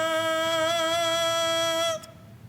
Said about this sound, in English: we have a double reed, which is 2 pieces of cane that is put together and they vibrate.